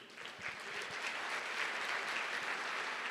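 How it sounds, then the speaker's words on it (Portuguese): Applause from a church congregation during a sermon on divine healing, a dense steady patter of many hands clapping close and loud throughout, no talk over it. "pode aplaudir Jesus"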